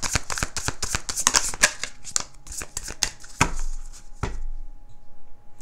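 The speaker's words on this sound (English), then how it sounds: "Hold on, let me get all your cards out." Tarot cards are shuffled and laid out on a table in a rapid run of crisp flicks and slaps, close and clear, ending with a couple of firmer placements before it goes quiet.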